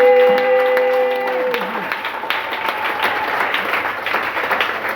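A church congregation applauds and cheers to acclaim God during a sermon: dense, loud clapping fills the room with crowd noise, rising after sustained music notes fade out in the first seconds.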